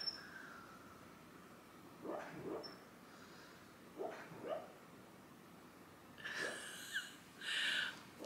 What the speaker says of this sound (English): My dog is having a dream.